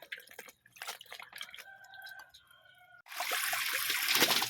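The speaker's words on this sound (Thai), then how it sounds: "จะเอาเห็ดเฟืองมาล่างน้ำให้สะอาดก่อนนะจ้า" Straw mushrooms are washed in water, starting with scattered drips and splashes and ending in a loud rushing stream of water, close by, with a faint bird chirp in between and no talking.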